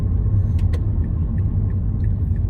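A car slowing and turning on a road, steady low engine and tire rumble heard from inside the cabin, continuous and fairly loud, with a couple of faint clicks and no talk.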